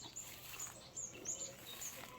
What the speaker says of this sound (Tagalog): Yan, ang daming ibon dyan oh.